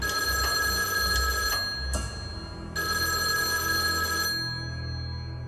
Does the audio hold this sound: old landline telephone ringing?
yes